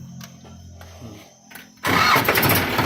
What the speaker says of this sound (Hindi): नीचे पड़ने के बाद आप ट्रैक्टर को स्टार्ट करो ट्रैक्टर को।